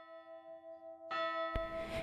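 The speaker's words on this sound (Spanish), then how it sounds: "En ese momento las campanadas del colegio empezaron a sonar" School bells ring with a sustained, resonant metallic tone, then a louder burst of clanging strikes swells in near the end, with no voices.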